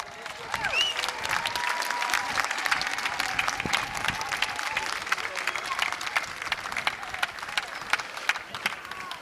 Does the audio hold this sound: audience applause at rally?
yes